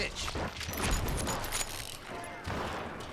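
Gunfire from the Western shooter game Call of Juarez: Gunslinger crackles in bursts of rapid shots with mechanical clatter, mixed under loud game dialogue and shouting, two dense volleys separated by a brief lull.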